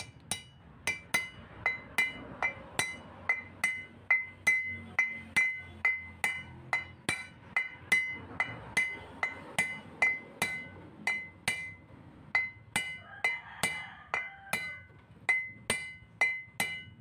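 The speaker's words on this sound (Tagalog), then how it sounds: "ginamitan ko ng T-wrench pang pukpok ng bearing shell" Sharp metallic strikes ring out in a steady, fairly fast rhythm, dozens of blows from a T-wrench used as a hammer on a wheel hub bearing shell of a Mitsubishi L300, close and clear with a bright clanking ring.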